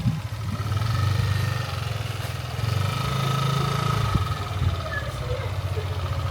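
A small scooter engine runs nearby, rising and falling through a few gentle revs over a steady idle.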